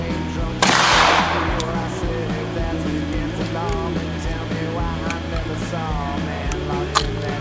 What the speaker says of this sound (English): Good thing about a double barrel, good old coach gun, two slugs.